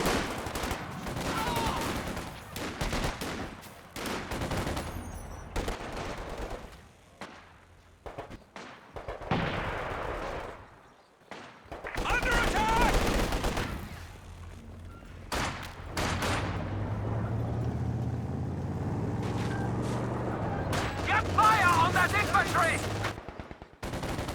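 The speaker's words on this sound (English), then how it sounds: "Both of them got the LMG upgrade too. So even behind the heavy cover, the squad's not going to last for too long." Bursts of LMG machine gun fire from upgraded squads in a Company of Heroes 2 2v2 battle, rattling in repeated volleys amid other battle noise, with someone commentating between and over the shooting.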